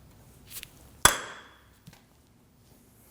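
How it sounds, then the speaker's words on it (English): A hammer strikes a punch to free the front axle of a 2013–2015 Subaru XV Crosstrek: one sharp metallic clang ringing out briefly, with a lighter tap before and after, close and otherwise quiet. "We're going to use a punch and a hammer, but be very careful not to mushroom the end"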